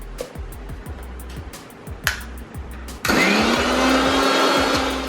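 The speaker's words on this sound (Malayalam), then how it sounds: "വെളുത്തുള്ളി, ഇഞ്ചി, പച്ചമുളക്, ഉപ്പ് ചേർത്തിട്ട് നമ്മൾ മിക്സിയിൽ അടിച്ച് അതിൻ്റെ ഒരു മസാല തയ്യാറാക്കുന്നു" A kitchen mixer grinder whirs into a loud, steady blend of garlic, ginger, green chilli and salt into a spice paste for a beef and egg dish, starting abruptly partway through after quieter background clatter and continuing to the end.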